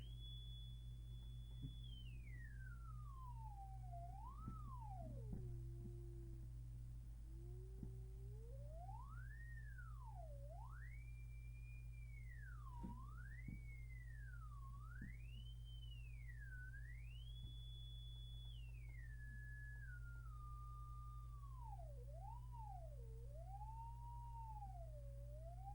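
A cable and pipe line locator emits a continuous electronic tone that sweeps and warbles up and down in pitch like a siren, over a steady low hum, with no talking.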